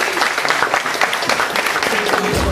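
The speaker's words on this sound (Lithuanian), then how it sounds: "Palaikykite plojimais." An audience at a school hundred-days-before-graduation event applauds as an illusionist is welcomed onto the stage. The clapping is loud, dense and steady throughout.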